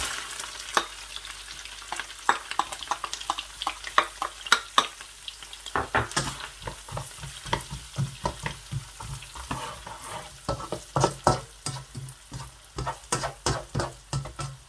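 Onions frying in melted butter in a kadahi: a steady sizzle at first, then louder hissing with a busy run of stirring and scraping strokes, close up with no voices.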